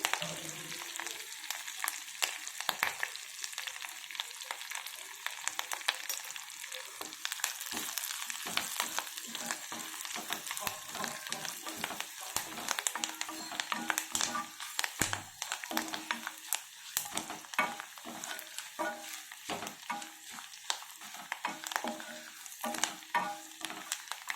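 Continuous crackling sizzle of tempering spices and chilli powder frying in hot oil for raw mango dal, with quick irregular pops and occasional stirring scrapes, close and fairly quiet, no talking.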